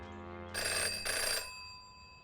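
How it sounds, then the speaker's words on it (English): A phone rings in Jenny LeClue: Detectivu with two short bright electronic trills in quick succession, loud and close, then fading into quiet. "it's his phone that was ringing"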